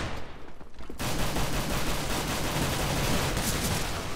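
Dense sustained gunfire in a competitive CS:GO match, loud continuous rattling shots starting abruptly after a brief quieter moment and carrying on without a break.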